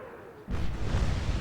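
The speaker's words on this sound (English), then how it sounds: "And another big explosion amidships" A large ship explodes amidships during a naval battle in Atlantic Fleet, a sudden low, heavy boom that rolls into a sustained rumbling roar, loud and close with no voices.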